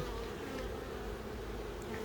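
Honeybees buzz continuously inside a hive, a dense, steady droning hum at low level with no voices.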